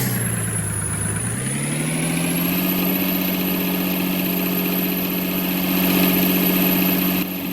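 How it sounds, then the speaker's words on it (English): Pickup truck engine from a Roblox muddin game idles steadily with a low harmonic drone and a high whine, revving up briefly near the start and holding loud and close throughout. "It is also a great sounding truck, but there's nothing like that Hellcat whine."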